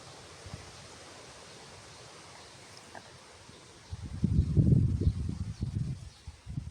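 Wind blows in with a low rushing gust after a quiet start in a vegetable garden, buffeting the microphone in uneven bursts.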